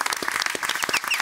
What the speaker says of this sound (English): give Russ T Nailz a round of applause